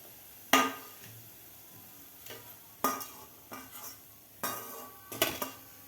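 Fried potato vadas are lifted out of a pan of hot oil, with sharp metal clinks of a utensil against the pan and soft sizzling between them, several scattered close knocks without talk.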